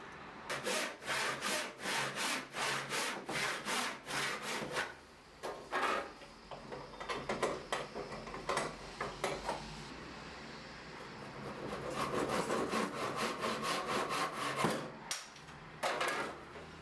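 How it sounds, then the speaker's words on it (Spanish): A hand saw cuts through a piece of wood for a woodworking marking gauge, with steady rhythmic rasping strokes close by, a short pause midway, then quicker strokes, with no talk. "Unimos ambas líneas y cortamos con un serrucho."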